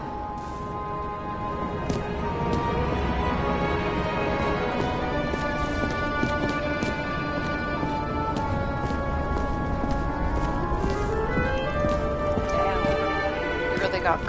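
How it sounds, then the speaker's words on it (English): Horse hooves clip-clop steadily in the game Nobody Wants To Die, with a whinny and music-like tones running throughout at a fairly loud, constant level. "Sarah, that's a horse."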